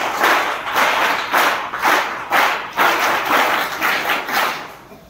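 An audience of schoolchildren and guests at a Rohina ashram school gives a welcome with rounds of clapping, a dense, loud, rhythmic pattern of about eight bursts of many hands at close range, with no talk.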